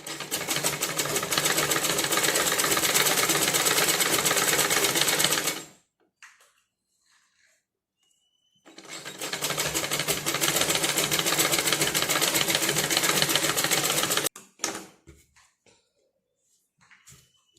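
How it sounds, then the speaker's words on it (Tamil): A sewing machine stitches a blouse patti in two steady runs of rapid, even clatter, each several seconds long, separated by a pause with faint handling clicks. "இப்போ நம்ம ஒரு ஸ்டிச் போட்டாச்சு ஸ்டிச் போட்டதை இந்த மேலே ஏற்றி விட்டுருங்க"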